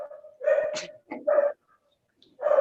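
A dog gives a few loud, close barks and yips in short bursts separated by brief silences, sounding agitated, in an indoor room.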